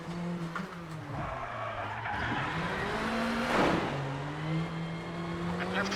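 Ford Fiesta Junior WRC rally car in the WRC 8 game at Tour de Corse, engine droning steadily with pitch rising and falling through gear changes and tyres skidding as the car slides, one louder burst midway, no talk.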